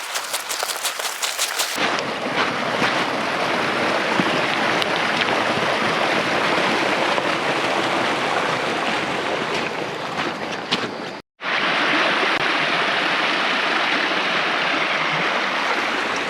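Steady rushing of rainwater running over and under rocks in a field drainage ditch feeding a culvert, a continuous broadband wash that drops out for a moment near the end before resuming.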